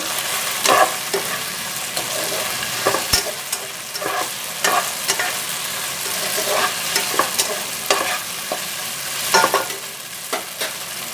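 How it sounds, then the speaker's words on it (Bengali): A spoon stirs Indian-style masala pasta with sugar and nuts in a hot pan, giving steady sizzling and frying with repeated scraping clacks against the pan, close and continuous without talk. "চিনি দিয়ে দিলাম, বাদামগুলো দিয়ে দিচ্ছি। তারপরে একটু নাড়িয়ে নেব।"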